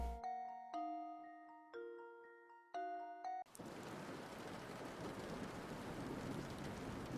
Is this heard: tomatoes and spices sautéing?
no